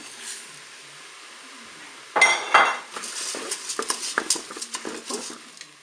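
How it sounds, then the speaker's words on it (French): Rice pours into a Cookeo multicooker pot for a curried shrimp rice dish, starting with a sudden rattling rush after quiet, then continuing as close clinks and scrapes of stirring. "Je vais maintenant ajouter le riz."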